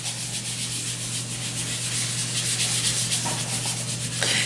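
Steady hand rubbing works across the painted surface of a craft box, removing paint in a light, continuous scrubbing texture with a low background hum and no talking.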